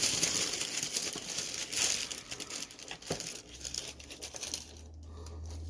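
Tissue paper crinkling and rustling as a Glossybox beauty subscription box is unboxed, close and continuous with irregular crackles, easing off toward the end, with a low hum underneath.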